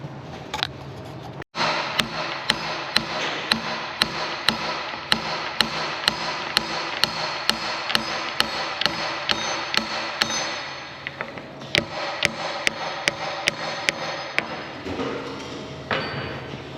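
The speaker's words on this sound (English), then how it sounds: "I need a brass hammer to tap that off." A brass hammer taps steadily on a part of an IH Dresser TD-25G dozer blade during a rebuild, dozens of sharp metallic strikes in an even rhythm, close and loud, with a brief pause midway.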